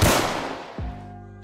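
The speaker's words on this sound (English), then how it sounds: "now if we pull out the gun and start shooting the wall" A single sharp gunshot from a gun in a Roblox video game strikes a wall, a loud crack with a decaying tail followed by a short ringing impact tone.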